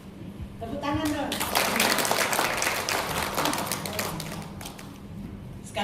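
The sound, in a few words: audience applause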